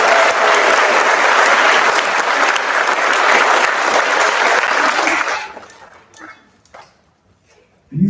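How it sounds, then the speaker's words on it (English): Auditorium applause at a nursing school pinning ceremony for University of San Francisco graduates: loud, dense clapping with cheers for about five seconds, then fading into scattered claps and near silence, with a brief voice at the end. "give a round of applause to every single graduate within the University of San Francisco School of Nursing and Health Professions"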